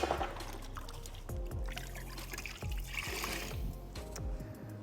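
Water is poured and splashed over a car's paintwork as a pre-rinse before a rinseless wash, with a steady close pour and trickling runoff throughout.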